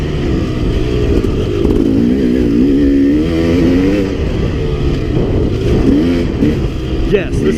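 A KTM 300 XC two-stroke dirt bike rides on tight single track, its engine droning close and loud with rising and falling revs throughout, while a voice talks over it.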